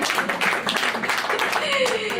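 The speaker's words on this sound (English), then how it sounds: "Give him a round of applause" Applause for a husband in the audience at a show at Max's, the clapping brief and fairly close, with voices and a rising whistle-like tone mixed in.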